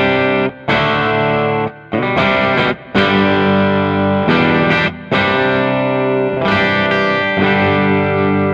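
A Duesenberg Star Player TV electric guitar plays through a distorted, chorus-soaked amp preset, loud chords ringing out in phrases separated by brief pauses, with no talking.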